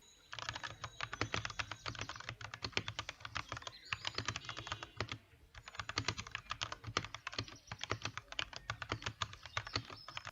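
Rapid clacking of a Royal Kludge RK84 mechanical keyboard with red switches, typed in fast bursts with brief pauses, close and crisp, no voices.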